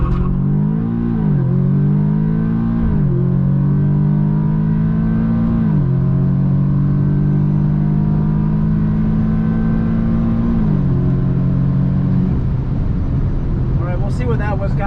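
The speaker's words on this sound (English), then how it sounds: "the car definitely spun hard off the line" A Stage 2 Audi S3 engine revs hard and accelerates from a standstill at a drag strip, wheels spinning off the line, pitch climbing in steps through gear changes, loud and close throughout.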